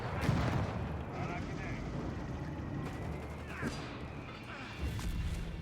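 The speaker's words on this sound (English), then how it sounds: "More mortar fire off here." Mortar rounds land in the Company of Heroes 3 video game, a series of heavy, rumbling blasts and crashes layered over constant battlefield noise.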